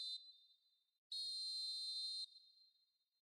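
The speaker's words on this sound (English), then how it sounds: "And there is the half-time whistle." Referee's half-time whistle in the eFootball mobile football video game: a short blast followed by one long, loud, steady shrill whistle of about a second, standing alone with no talk.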